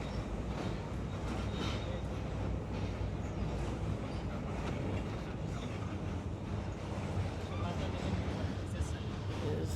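A passenger train rolls across the Dilpasha rail bridge with a dense, steady rumble and rattle heard from inside the carriage, while a voice talks over it throughout.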